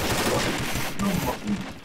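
Rapid bursts of automatic gunfire in a tactical team shooter match, loud and continuous, with faint voices underneath.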